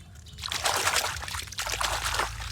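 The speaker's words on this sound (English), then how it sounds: "We put some water so we can see some parts of any cars." Water trickles and splashes over toy cars and trucks being cleaned, a steady close pouring with sloshing bursts and no talk.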